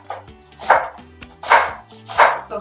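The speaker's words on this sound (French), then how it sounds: "une fois qu'on a fini de couper les choux" A knife chops through cabbage on a board with three firm, evenly spaced strikes, each a sharp thud followed by a short crunchy rasp. No one speaks.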